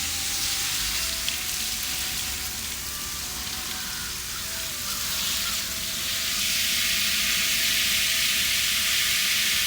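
Water trickling and pattering steadily as potted mums on a fall porch are watered, a continuous soft splashing hiss that stays fairly even throughout with a slight swell toward the end, no voices.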